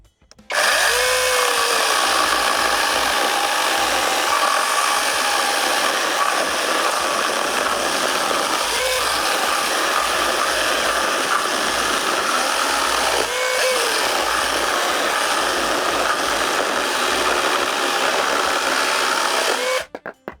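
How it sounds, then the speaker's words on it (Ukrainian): A Procraft PKA34 cordless mini chainsaw runs steadily at high speed for about twenty seconds, a loud continuous buzzing whine with slight shifts in pitch as it bites into dry oak about 15 cm thick. "Сухий дуб десь біля 15 сантиметрів. Працюємо."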